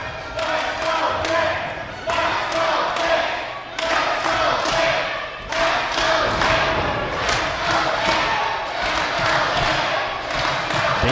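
Wrestling fans cheer and shout at a live wrestling match, a steady, loud crowd roar that swells in bursts and is broken by heavy thuds from the mat.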